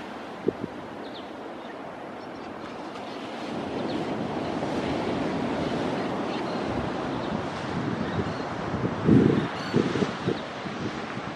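Ocean waves roll and wash steadily along a coast in Gippsland, with wind buffeting the microphone throughout and a few louder gusts and surges near the end.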